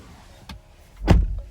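Two mechanical clicks inside a car, a faint one followed by a louder, sharper clunk of a lock actuator.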